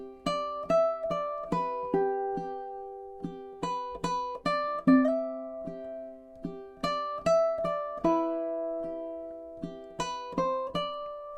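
Solo ukulele plays four measures of a Wayfaring Stranger arrangement, plucked notes and strummed chords in a slow, steady rhythm, clear and close with each note decaying quickly, no voices.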